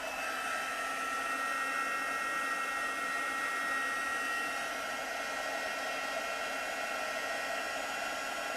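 Heat tool blowing steadily while melting embossing powder on a handmade birthday card, a constant whooshing fan hiss with a faint whine, no pauses and no talk.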